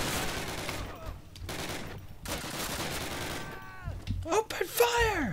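Call of Duty campaign combat: bursts of gunfire and machine-gun fire ring out alongside game sound effects and whooshing tones, with voices talking over the action.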